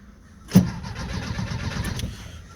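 A Vespa 400 engine fitted with a new electronic ignition cranks with one sharp starter burst and then keeps turning over roughly and quietly, close by, without clearly catching.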